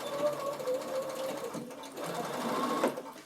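A sewing machine stitching along plastic beside a backpack zipper, a steady close mechanical whirr with a brief pause, then running again, a voice speaking over it.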